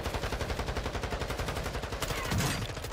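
Rapid automatic gunfire in Warzone Season 5 at Vondel Park, a steady rattling stream of shots for several seconds with a heavier blast near the end, loud and close with no talking.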